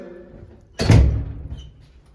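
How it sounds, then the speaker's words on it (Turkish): A door pushed shut at a hot spring resort building: a single close, heavy thud that fades over about half a second, with quiet surroundings before and after. "Kapat kapıyı"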